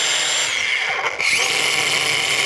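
A Fine brand angle grinder running steadily, a loud, close, high-pitched whine that dips briefly near the middle before resuming at full speed, with no voices.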